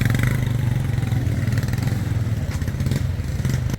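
A motorcycle engine runs continuously nearby in Tanzania, a steady throaty rumble with a slight rev, loud and with no talking.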